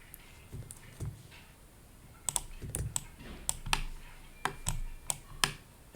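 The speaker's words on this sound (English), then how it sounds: "so I'm just going to control and click" Keyboard and mouse clicks while working in Maya, with sharp, close taps arriving in an irregular run, some sparse at first, then several in quick succession, fairly quiet with no talking.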